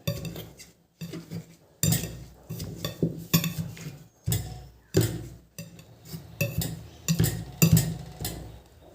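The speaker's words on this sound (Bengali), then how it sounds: "এবার নিয়েছি একটা নোড়ার সাহায্যে নীলকণ্ঠ ফুলগুলো কিন্তু আমি থেতো করে নেব" Butterfly pea flowers crushed with a stone grinder, giving a run of close, repeated knocking and grinding scrapes in an uneven rhythm with short pauses between strokes.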